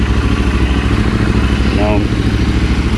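A 2019 Royal Enfield Interceptor 650 twin idles close by, with a steady, loud, even engine throb throughout and no letup.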